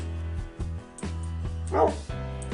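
A dog in the Minecraft video game barks and yips in several short, close bursts with pauses between them, plus a brief whimpering cry near the end. No one speaks.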